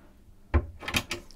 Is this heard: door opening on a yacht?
yes